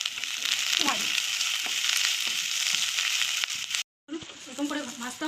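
Shredded cabbage fries with salt over low heat, a dense, close crackling sizzle with stirring scrapes that breaks off abruptly into brief silence and then resumes more softly with some clinks.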